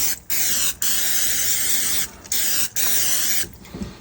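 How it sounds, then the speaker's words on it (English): Cooking spray hisses onto a plaster mold for a soft plastic shad lure in three or four close, steady bursts separated by short pauses. "Cooking spray happens to be the cheapest and easiest way to accomplish that task."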